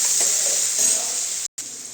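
A paste of garlic, chili, coriander and ginger sizzles in hot oil, a close, bright crackling hiss that holds steady apart from a momentary break.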